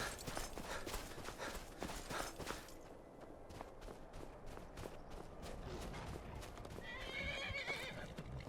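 A horse in Skyrim neighs and whinnies while its hooves clip-clop in quick galloping beats, fairly close and moderately loud, with game sounds around it and no talk.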